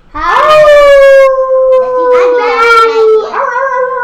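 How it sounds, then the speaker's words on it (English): Wolf pack howling at night as a tabletop game sound effect: long, low, sustained wailing howls, one rising and holding, then more voices joining and overlapping, loud and close. "a chilling howl of a wolf pack, long and low, cuts through the night air"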